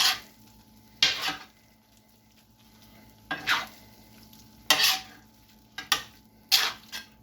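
Mushrooms and onions stirred into meat on a griddle for a chopped cheese meatball sandwich: several separate bursts of scraping and sizzling from a spatula, with quiet stretches of low hiss between them.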